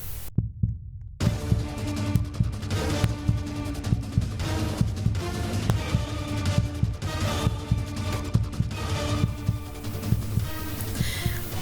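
A thumping, pulsing heartbeat-like sound marks the beast's presence in the Roblox horror game Flee the Facility, a steady rhythmic throb with a dense low rumble, loud and continuous with no talking.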